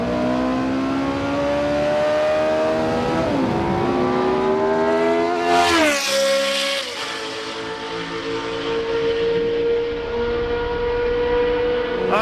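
Formula One–style race car engine revving hard on a track, a loud, high-pitched scream that climbs through the revs, drops sharply at a gear change and then settles into a steady, sustained whine.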